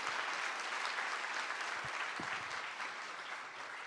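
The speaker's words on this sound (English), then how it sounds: "I just want to ask everyone for another round of applause for these great students who helped us" Applause for graduating students at a coastal cities conference session, a broad, steady roar of many hands clapping from a large audience, fading slightly toward the end, with a couple of low thumps partway through.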